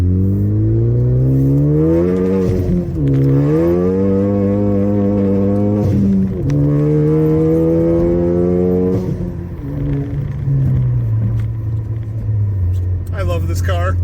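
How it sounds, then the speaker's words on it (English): Ford Focus ST with a Roush catback exhaust, catless downpipe and stage 2 tune accelerating hard, a loud rising engine drone climbing through gears with brief dips at each shift, under talking. "You get a little bit of the cackling or whatever when you downshift and stuff"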